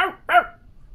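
Two quick, loud dog barks close by, the second slightly stronger, followed by quiet.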